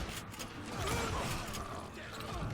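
A Winchester lever-action rifle is cycled in the Western shooter game Call of Juarez: Gunslinger, giving a close, steady mechanical clatter and creak of the lever and action for a couple of seconds.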